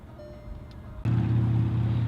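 A 2015 Volkswagen Golf Sportwagen TDI with a 2.0-liter turbocharged diesel engine is started by push button: a sudden loud catch about halfway through, then a steady low diesel idle drone, close up.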